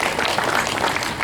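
A lecture hall audience claps at an inauguration ceremony, steady dense applause from many hands filling the whole brief moment.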